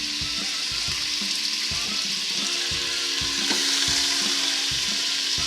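Beef chunks browning in a pot for Ukrainian borscht, a steady loud sizzle with a few clattering stirs and knocks against the pot, close up and with no talking.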